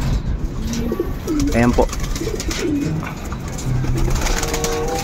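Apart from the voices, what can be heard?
racing pigeons cooing in a loft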